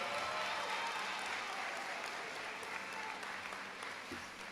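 Audience applause at a Ginn Academy graduation ceremony for the executive director, a sustained, dense wash of many hands clapping that stays steady and slowly tapers toward the end, with no talk over it.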